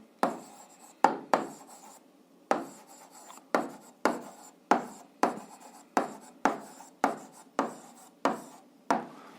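Chalk or pen taps and scratches out an algebra proof in quick, separate strokes, each stroke a short crisp burst with brief pauses, close and clear, with no voice over it.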